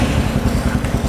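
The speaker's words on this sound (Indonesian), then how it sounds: "Ini adalah kondisi motor ketika saya starter gitu, kondisinya seperti ini suaranya." A Royal Enfield motorcycle with a custom exhaust starts and runs with a deep, throaty exhaust rumble, steady and loud throughout, with a lumpy low-pitched pulse.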